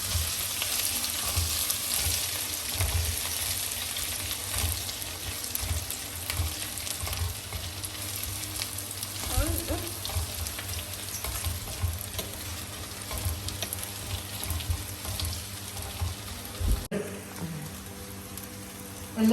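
Ginger and garlic frying in hot oil, a dense crackling sizzle lasting throughout with stirring scrapes and a brief clatter near the end, close up in a home kitchen.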